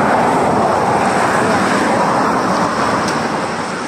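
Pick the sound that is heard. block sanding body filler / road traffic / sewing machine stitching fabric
road traffic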